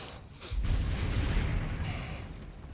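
A Confringo blast spell from the video game Hogwarts Legacy goes off with a heavy, rumbling boom after a brief quieter lead-in, then fades slowly.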